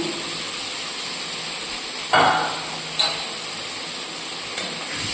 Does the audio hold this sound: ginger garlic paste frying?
yes